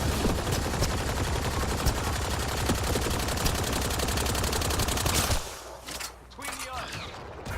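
Gunfire and sniper shots ring out in Mass Effect: Andromeda combat, a dense, steady rattle of rapid shots for several seconds that then breaks off into a few quieter, scattered impacts.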